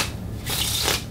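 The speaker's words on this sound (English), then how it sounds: "Riffle shuffle" A riffle shuffle of a Smoke and Mirrors second edition playing card deck: a short, close, crisp burst of fluttering card riffles with a brief bridge-like whoosh at the end, with no talking.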